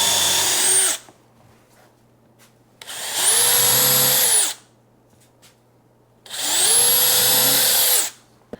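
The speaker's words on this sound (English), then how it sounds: "Next up, we're going to pre-drill and countersink." A power drill pre-drills and countersinks holes in wood. It runs in three loud whining bursts, each about one to two seconds long, with short quiet pauses between them and no talking.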